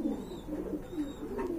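A pair of pigeons coos softly in low, rolling phrases, the murmuring calls faint and continuous with no talking.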